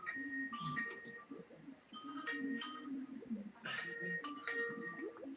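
An incoming call sets a phone ringing with a repeating melodic ringtone, its bright tones cycling several times while people talk over it.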